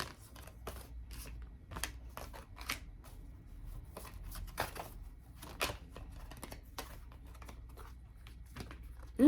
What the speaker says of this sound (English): I'm just going to see what comes out if I shuffle a bit more oracle.